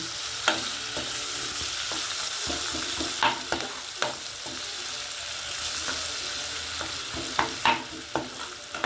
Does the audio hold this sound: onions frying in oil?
yes